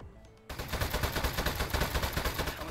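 A desk-mounted gun in Desk Job fires a loud, rapid, sustained burst of automatic shots that starts abruptly and continues in an even, fast rhythm.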